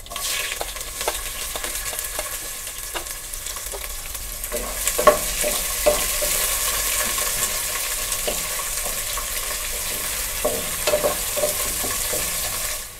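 Chopped onion fries in hot oil with bay leaf, cardamom and cinnamon, giving a continuous loud sizzle broken by frequent scraping stirs of a spatula in the pan, with no talking.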